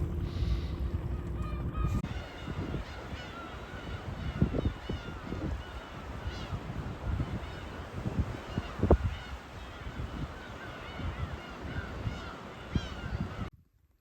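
A flock of whooper swans in South Hokkaido calls in winter, with many overlapping honking and trumpeting notes, some near and loud, others fainter, continuing steadily before cutting off.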